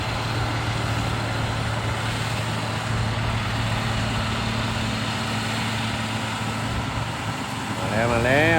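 A motor grader's diesel engine drones steadily as it drives into a curve while mixing soil on a four-lane road widening job, a continuous low hum with a slight rise at the end and someone talking over it.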